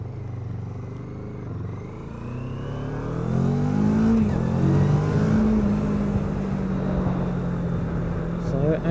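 A CFmoto 650NK motorcycle accelerating on a test ride around Wolverton, its engine note climbing in pitch and growing louder from midway, heard from the rider's position with wind buffeting underneath.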